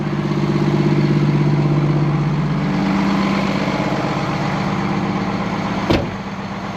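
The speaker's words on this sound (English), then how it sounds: "This truck wants to do a parked regen." A truck engine idling while parked during a regen, a loud, steady, low diesel throb with a slight shift in pitch partway through and a brief click near the end.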